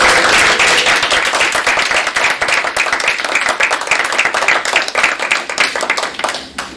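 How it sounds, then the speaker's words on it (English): A school board work session breaks into a round of applause after a motion carries, dense clapping from a modest crowd in a meeting room that stays full before thinning into scattered claps. "We have a round of applause."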